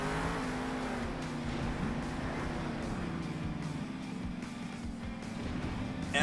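Monster truck engine roaring steadily in Monster Jam Steel Titans 2, a continuous loud drone that builds speed with no pauses.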